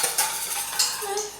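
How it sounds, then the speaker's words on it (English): Homemade mayonnaise being whisked and stirred in a bowl, with a steady clinking and scraping of the utensil against the bowl and a few sharper taps, close and moderately loud. "Just want to get that really stirred together."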